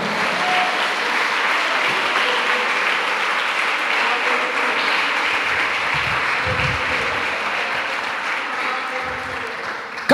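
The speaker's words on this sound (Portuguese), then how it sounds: "dê um aplauso ao Senhor bem forte" A church congregation gives loud, sustained applause in praise during a worship service, a dense wash of clapping from many hands that holds steady for the whole stretch, close and full.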